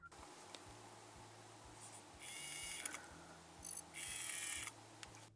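Sci-fi ringtone on a Vivo V15 Pro phone, the factory default tone: bright synthetic electronic bursts in two bouts, faint and tinny, with a low pulsing hum underneath and no talking.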